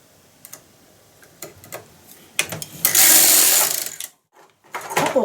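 A knitting machine carriage is pushed across a row while knitting a vest bodice, starting with scattered clicks and ticks and then rising to a loud, sustained mechanical rush with a brief pause and renewed clatter.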